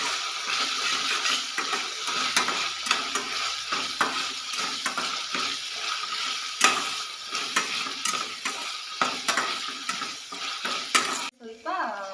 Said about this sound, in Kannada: ಆಮೇಲೆ ಅದನ್ನು ಸ್ವಲ್ಪ ಫ್ರೈ ಮಾಡಬೇಕು, ಹಸಿ ವಾಸನೆ ಹೋಗೋ ತನಕ ಫ್ರೈ ಮಾಡ್ತಾ ಇರಬೇಕು.